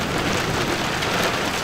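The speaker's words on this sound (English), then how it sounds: "The rain on this skylight was so loud, I couldn't even hear my show on TV" Heavy rain driven by wind drums steadily on the skylight of a skoolie, a converted school bus, during a desert monsoon storm, a dense continuous hiss and patter close overhead with no voices.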